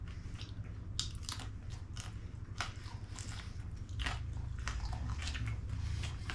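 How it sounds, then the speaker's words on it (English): Close, crisp crunching as pieces of crispy baked lasagna are bitten and chewed, a quick run of sharp cracks and crackles over soft mouth sounds with no talking. "I don't know if you can hear that crunch"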